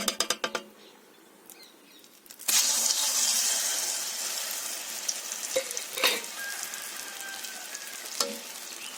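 Ground herbal paste for homemade neelibringadi hair oil drops into hot sesame oil in a pan. A few knocks come first, then a sudden loud, steady sizzle and hiss that carries on, with occasional clinks from stirring.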